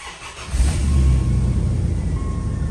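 A car engine cranks and fires up, then revs and settles into a steady mid-pitched idle, close and loud, with no one talking over it.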